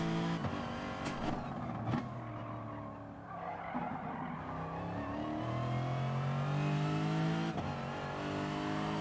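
McLaren race cars roar through a Gran Turismo Sport online race, engines revving and shifting in rising and falling pitches, with tire squeal and skidding as they corner, loud and continuous.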